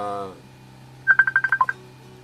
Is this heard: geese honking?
no